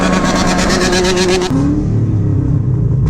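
A motorcycle engine starts and revs hard, a loud, close roar with a rising pitch that then settles into a rough, steady throb.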